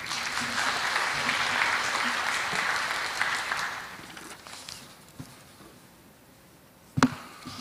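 Audience applause welcoming a speaker at the opening ceremony of an international organizations careers fair, a dense round of clapping that fades after a few seconds, followed by scattered thumps and a sharp knock.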